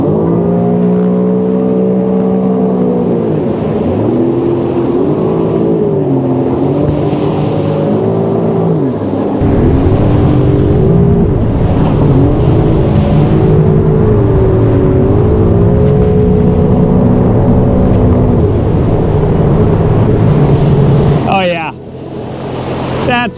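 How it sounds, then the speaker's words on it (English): A 2022 Sea-Doo GTX 300 LTD jet ski accelerates hard in sport mode. The engine drones loud and close and its pitch rises and falls through the run, with wind and water rush throughout and a splash near the end. "let's see in sport mode what kind of acceleration we have."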